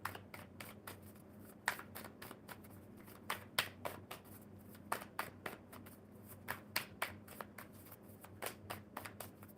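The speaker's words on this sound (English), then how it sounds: "One more good shuffle." Repeated crisp riffles and taps of a deck of tarot cards being shuffled by hand, close and fairly quiet, in irregular bursts.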